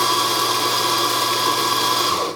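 A Eureka Zenith 65 E Hi-Speed espresso grinder grinds coffee beans with a loud, steady, high whir heard close up, which stops abruptly at the end, with no talking.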